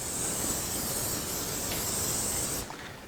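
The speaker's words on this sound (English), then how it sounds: "I'm gonna hit that with a little spray." Cooking spray hissing from an aerosol can onto a baking dish for spinach and artichoke dip, a steady close broadband hiss lasting about two and a half seconds before cutting off.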